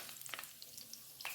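Diced potatoes with cumin seeds and chopped green chilies fry in oil in a pan, giving a faint, soft sizzle with small crackles and pops.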